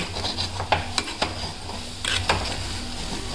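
A spoon stirring a spice mixture in a pan, a few sharp scraping clinks against the metal over a low sizzle.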